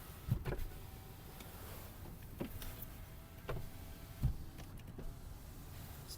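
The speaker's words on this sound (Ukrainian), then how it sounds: "Склопідйомники в нас всі працюють." Power windows in a Volkswagen Golf VI run in short motor whirs, faint and close inside the cabin, separated by soft clicks and thumps as each window stops.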